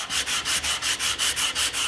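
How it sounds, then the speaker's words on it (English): Rhythmic back-and-forth rasping of a sanding block on wood, about ten even strokes in quick succession, close and loud with no talking. "all we want to do is just take a sanding block"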